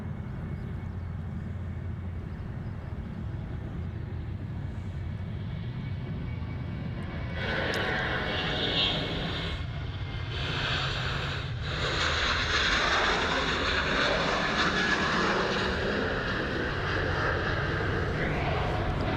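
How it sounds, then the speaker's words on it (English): A Qantas Boeing 737 jet departs Sydney Airport from runway 34 right, its engine roar building from a steady distant rumble into a louder, broadband rush that holds strong as the aircraft climbs away. "Qantas 737 getting away there, runway right."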